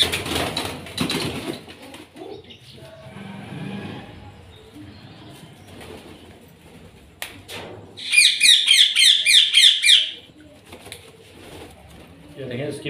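Pigeons with tied wings are handled at home while someone talks; partway through comes a loud, close burst of rapid wing flapping lasting about two seconds, with other quieter rustles and speech around it.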